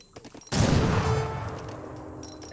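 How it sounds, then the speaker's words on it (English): A sudden loud burst of gunfire in Age of Empires 3 erupts after a quiet moment, a dense volley of overlapping shots that rings out and slowly decays. "I heard some gunshots there."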